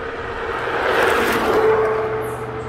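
Whining hum of a Hiboy Titan all-terrain electric scooter at full throttle heading downhill on pavement, a steady motor tone with wind rush that swells in the middle and eases off.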